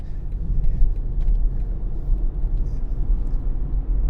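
A steady low engine rumble from inside a moving 2020 BMW 330d M Sport Touring diesel in Eco Pro mode, constant and fairly loud, with no distinct revs or changes.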